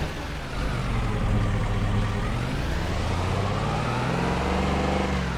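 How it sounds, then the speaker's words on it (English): Old Toyota Hilux truck reversing across a lawn toward a tree, its engine a steady low rumble that slowly rises and shifts in pitch as it backs up, close and continuous with no talk. "So I'm gonna back the truck up here to where the tree is"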